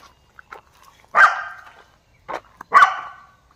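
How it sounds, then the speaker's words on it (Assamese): A dog barks outdoors in a quiet setting, giving several sharp, fairly close barks spaced irregularly with short yips between, with no voices. "কুকুৰটোৱে ভুকি আছে কিবা দেখিছে নহ'লে মেকুৰী দেখিছে নহ'লে কেকেটুৱা"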